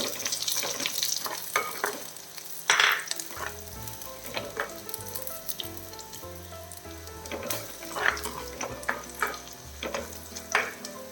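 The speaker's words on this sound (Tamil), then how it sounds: "ஒரு 4-5 காஞ்ச மிளகா சேர்த்துடலாம். அதையும் சேர்த்து நல்லா வதக்கிடலாம்." Small onions and dried red chillies sautéing in a pan for a green peas curry, a loud continuous sizzle with repeated scraping stirs and clinks close by.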